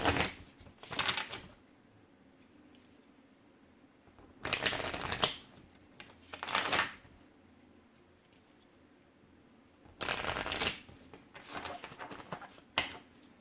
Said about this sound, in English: I'll take some affirmation cards from the Amenti deck.